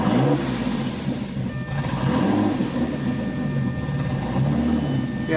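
A B5 VW Passat engine idling rough with sensors disconnected, a steady low rumble that fills the clip close by, with slight surges in level and no voices.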